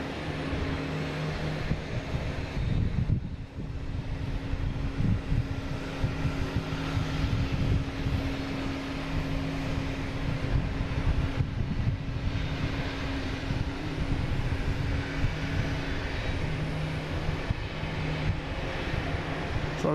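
A JetBlue airliner in Blueprint livery passes outdoors near a park, its steady engine roar and low hum sustained throughout against wind buffeting the microphone.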